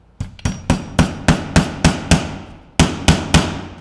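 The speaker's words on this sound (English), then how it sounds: "I'm just gonna pound these two old square nails in here at a bit of an angle" Hammer with a loose head pounding old square nails into wood at an angle: about eleven sharp, loud, close blows in a steady rhythm, with a short pause before the last three, no talking.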